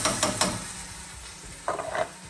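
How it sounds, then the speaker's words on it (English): Canned diced tomatoes go into a hot pan for chicken riggies, a soft steady sizzle punctuated by a few wet scraping stirs at the start and again near the end, fairly quiet and without voices. "Now I'm going to add the tomatoes. I'm using canned diced tomatoes."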